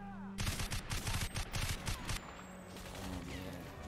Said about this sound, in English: Oh, I think that was a grenade.